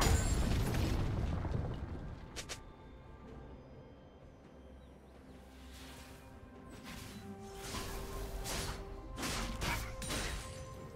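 A League of Legends turret is destroyed with a crashing, rumbling explosion, followed by clanky debris and bursts in the game mix. The noise is loud at first and swells again near the end, with no talking.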